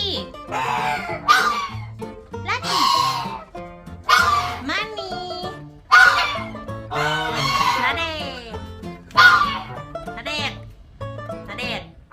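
Geese in a flock give loud, close honking calls in repeated bursts, one after another, with brief pauses between them.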